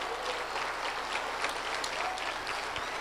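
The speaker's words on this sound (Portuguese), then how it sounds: "Pode aplaudir, Ele merece." A church congregation applauding during a worship service, a dense, even patter of many hands filling the room at a moderate distance, with no voices over it.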